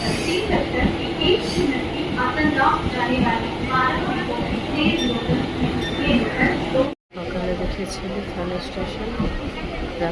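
A train rumbles and clatters along a busy railway station platform, with steady mechanical noise, metallic squeals and people talking throughout.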